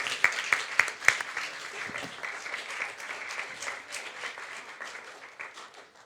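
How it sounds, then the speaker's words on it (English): Audience applause at a 2023 Estonian election candidates' debate, opening with a few sharp individual claps before swelling into sustained, moderately loud clapping that slowly fades. "can we give a big round of applause to the team that put all of this together?"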